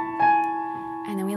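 Piano notes with grace notes, sustained tones ringing steadily with a brighter chord change near the end, close and moderately soft.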